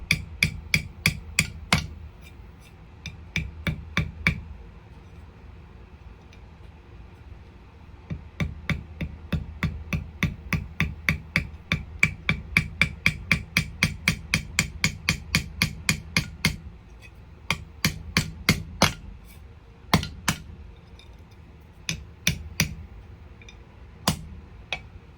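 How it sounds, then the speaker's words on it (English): Steady runs of sharp metallic hammer taps drive tuner bushings into the headstock of a vintage Hohner Shark Fin guitar, close and crisp, coming in rapid bursts separated by short pauses. "We just keep tapping them through."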